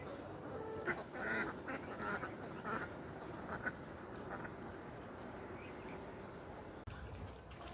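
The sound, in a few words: duck quacking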